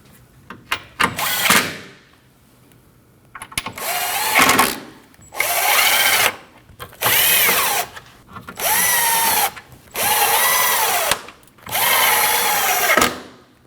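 Power drill driving in the five missing front bumper bolts on a 2013–2019 Ford Escape 1.5L, heard as several loud, close whirring bursts of a second or two each, separated by brief pauses, with no talk.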